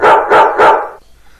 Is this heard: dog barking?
yes